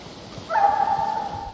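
A distant, drawn-out howling bay of a pack of hunting hounds during a hunt on horseback rises briefly over faint outdoor background noise.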